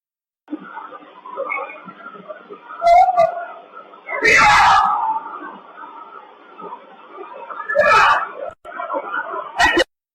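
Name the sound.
recorded male yelling before audio cuts off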